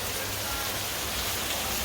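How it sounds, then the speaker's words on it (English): Steady rain falls in the Jamaican countryside, a dense even hiss of drops that holds at the same level throughout, with no voices. "So I make you show the rain in the countryside."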